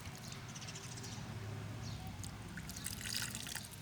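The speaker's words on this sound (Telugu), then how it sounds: "వాటర్ పోస్తాను ఫస్ట్ అయితే" Water poured slowly onto sand around a small tree, a soft continuous trickle with faint dripping and light splashes, quiet and close, with bird calls faintly audible.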